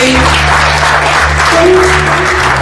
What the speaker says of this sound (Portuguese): Agora solta a mão e aplauda o Senhor Jesus